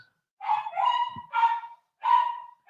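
Two dogs barking at someone outside, a run of four loud, sustained barks with short gaps, close to the listener and with no talk over them.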